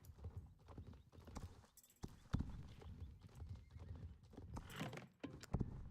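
Horse hooves clip-clopping in the Star Stable video game, a steady rhythmic trot of game sound effects with an occasional whinny mixed in, fairly close and continuous throughout.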